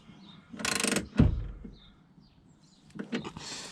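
Ratchet clicking as a window guide is snugged down inside a Saab 9-5 front door, a couple of short close bursts of ratcheting with a quiet pause between.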